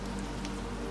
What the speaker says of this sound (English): Rain's pouring down on these guys.